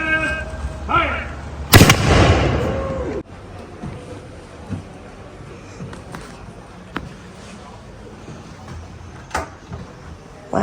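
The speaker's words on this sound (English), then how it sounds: "there's quite a significant boom from that end." A historical cannon fires at Jamestown Settlement with a single loud, sharp boom whose rumble rolls on for about a second, followed by quieter outdoor ambience and a few faint distant knocks.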